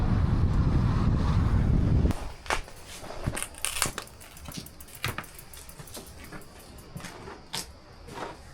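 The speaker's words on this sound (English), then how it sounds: "it's absolutely blowing a gale out here" Strong gusting gale on a Sardinian bikepacking trip, a loud roaring buffet of wind for two seconds that drops into quieter gusts punctuated by sharp bursts and rustling.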